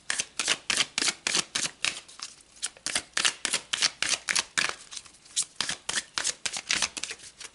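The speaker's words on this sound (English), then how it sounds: "So let's pull another card." Tarot cards being shuffled close up make a quick, regular run of crisp riffling snaps that continues steadily for several seconds, with no talk over it.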